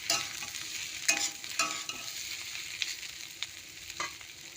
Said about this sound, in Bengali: পেঁয়াজটা ভাজা হলে সব মশলা দেবো।